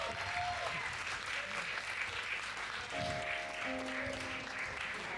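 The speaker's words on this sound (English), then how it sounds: "give him a big round of applause" An audience at a 2025 EP launch event claps and cheers in a full, sustained burst of many hands, with faint held musical tones beneath.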